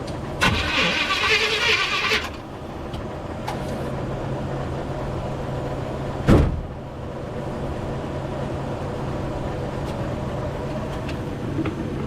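A Willys 4x4 wagon engine with no fuel cranks close up for about two seconds without catching. A brief sharp burst follows a few seconds later, then a low steady hum, with no voices.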